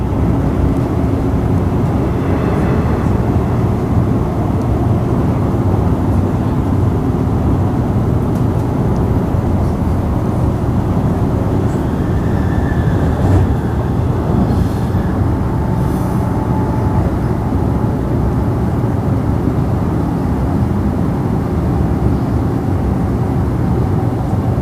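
A Mandurah Line train runs past the sidings at Coburn with a loud, steady rumble and roar that holds evenly for the whole stretch, with no voices.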